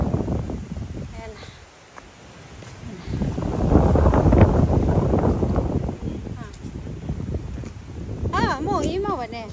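Strong wind roars and buffets a microphone at a hilltop sky park in Yonozu Village, Saiki City, Oita Prefecture, with gusts swelling mid-clip while people talk over it.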